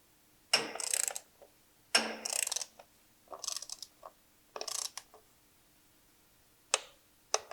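A torque wrench tightening floor board bolts, heard as several separate close bursts of rapid ratcheting clicks with quiet gaps between them, ending in two short single clicks.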